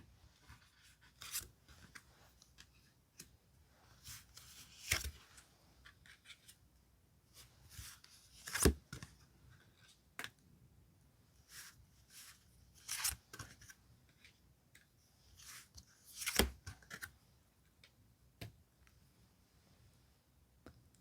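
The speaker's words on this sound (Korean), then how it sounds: "카드 5 장을 선택해 볼게요" Tarot cards are shuffled, slid and tapped one by one during a quiet reading, giving soft scattered rustles and crisp flicks with a few sharper snaps, close and faint, with no talk.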